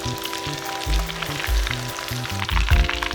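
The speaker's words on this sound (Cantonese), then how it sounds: "咁炸到金黃色" Meat pieces deep-fry in hot oil until golden, giving a continuous bubbling sizzle over low, pulsing tones and occasional louder surges, close up with no talking.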